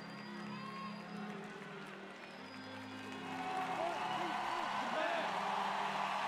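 A crowd at a Paralympic wheelchair rugby bronze medal match between Japan and Canada in Rio murmurs at a distance, then swells into louder cheering and applause in the latter half, under a commentator's talk.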